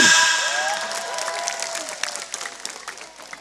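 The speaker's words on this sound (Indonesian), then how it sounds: "Tepuk tangan." Applause from a crowd at an outdoor religious gathering with sholawat singing, a burst of clapping and cheering that starts loud and gradually fades over a few seconds, with whistling tones mixed in.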